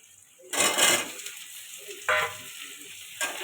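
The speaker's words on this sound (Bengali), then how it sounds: "দিয়ে এটা আর একটু ভাজতে থাকবে" Potatoes hit a hot pan of onion and green chili for cabbage and shrimp ghonto, giving three bursts of loud sizzling, the first the longest, with a steady softer frying hiss between them.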